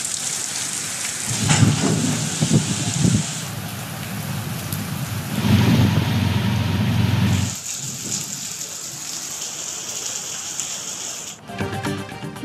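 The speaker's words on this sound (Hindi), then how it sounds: "उकाड़ा में बारिश से मौसम खुशगवार" Heavy monsoon rain pours down in a thunderstorm in Okara, Punjab, a dense steady roar with deep rumbling thunder swelling in two long bursts, then rain hissing alone.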